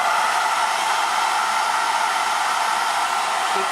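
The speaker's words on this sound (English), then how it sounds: "I would keep the blow dryer moving while trying to get this to dry." A blow dryer kept moving over wet gel medium for a transfer gives an unbroken, steady rush of air, loud and close throughout.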